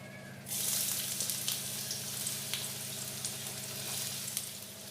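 Dried chilli, chopped onion and slit green chilli hit hot oil with a sudden loud sizzle that settles into a steady, close frying hiss with faint stirring.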